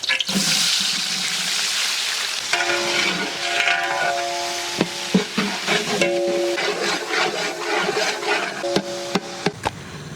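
Two kilograms of onions with whole spices fry in a large pot for Ambur mutton biryani, a loud, bubbling sizzle throughout, punctuated by repeated metallic clanks and scrapes of a ladle stirring.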